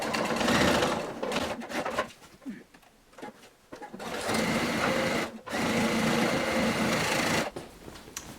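A sewing machine stitches a fabric pouch cozy bag in steady bursts of mechanical whirring, loud and close, pausing briefly around the middle and again near the end.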